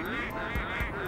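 A duck-like quacking, honking fire sound effect from the video game Luigi's Mansion repeats in quick rhythmic pulses over a busy game soundscape.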